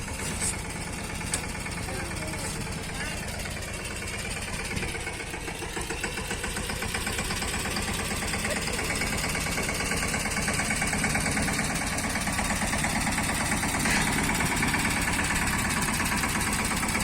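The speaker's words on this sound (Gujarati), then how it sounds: "mini tractor" A mini tractor engine idles steadily and evenly throughout, a close, constant mechanical drone with a light knocking texture and a few faint sharp clicks.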